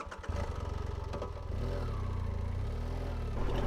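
A motorcycle engine idles with a rapid throb, then revs up and holds a steady, loud drone as it climbs a slope, close by with no talk.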